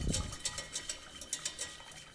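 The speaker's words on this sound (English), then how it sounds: "Stir that in." Spoon stirring bourbon into a thickening sauce in a pan, soft rhythmic scraping and wet clinks about every quarter second, close but quiet with no talking.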